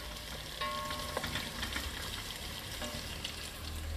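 Onions and curry leaves fry in hot oil with a steady, dense sizzle and crackle, close and continuous with occasional stirring clatter and no talk.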